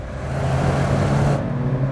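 A 2017 MINI John Cooper Works Convertible, roof down, pulls hard around a race track at Richmond, its engine a steady, full drone that holds for about two seconds with no talk.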